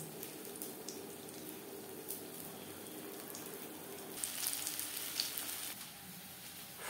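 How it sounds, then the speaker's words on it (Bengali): Cauliflower pakoras fry in hot oil, a steady crackling sizzle with scattered sharper pops and a brief louder flurry midway, close up and with no talking. "প্রত্যেক ব্যাচের পকোড়া একইভাবে ভেজে নেব।"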